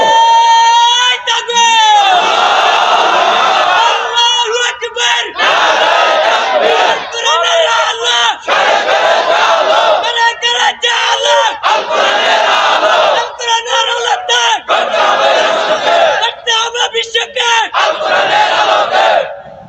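A large crowd at a Bengali Islamic sermon roars the takbir chant in repeated loud, full-throated waves, each surge broken by brief pauses, close and overwhelming.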